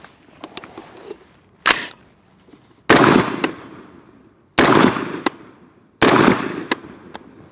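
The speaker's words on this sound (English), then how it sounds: "we're just gonna go with it and shoot. We're just pinging steel here at 50 yards" A Harrington & Richardson 723 style carbine fires at steel plates 50 yards out. Several sharp, loud shots come at irregular intervals, each with a ringing, decaying tail, and faint metallic pings are heard between them.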